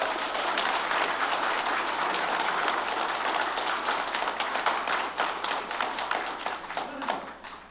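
An audience at a mayoral candidates' debate for Gunpo applauds the two candidates, steady dense clapping that stays strong before thinning slightly toward the end.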